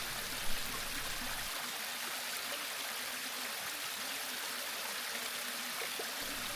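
Waterfall at the end of a wooded ravine on a hiking trail, the natural gas-fed flame falls; a steady, moderately loud broadband rush of falling water continues evenly throughout, with no talking.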